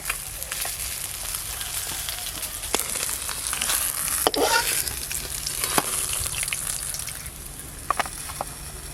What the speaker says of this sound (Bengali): এবারে ছোট মাছগুলো দুবারে ভেজে নেব।